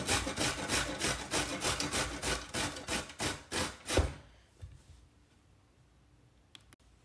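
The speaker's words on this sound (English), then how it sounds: "Now I'm going to grate zucchini." Zucchini is rubbed against a grater in quick, regular rasping strokes, about a dozen close scrapes in steady rhythm that stop after four seconds, leaving faint handling taps.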